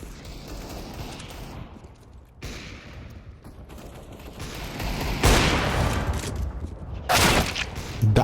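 Gunfire in Counter-Strike: Global Offensive, bursts of automatic shots with loud clustered volleys toward the end, mixed with mechanical clicks of weapon handling.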